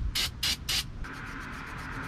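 Three quick hissing bursts from a can of cleaner sprayed onto a 2005 Chevy Trailblazer throttle body, close up, followed by a fainter fizzing hiss as the spray settles.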